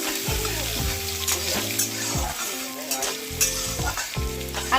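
Chana dal frying with crushed ginger, stirred in a pan with a continuous bright sizzle and light scraping. Low, stepped tones run steadily underneath.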